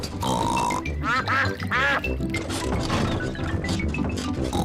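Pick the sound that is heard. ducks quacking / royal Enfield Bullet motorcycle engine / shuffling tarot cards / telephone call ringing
ducks quacking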